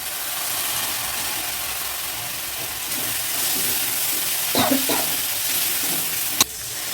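Spice paste of ground spices, salt and water frying in a pan of curry, a steady close sizzle with a few scraping stirs and a sharp knock near the end, no speech.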